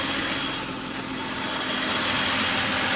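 A BMW 528i engine idles at cold start, a steady close, loud running drone with a hissing, rattly texture and no voices, holding fairly even throughout.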